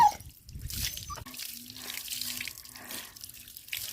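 Tap water runs steadily while a dog is being bathed, a continuous splashing flow heard close by with someone speaking soothingly over it.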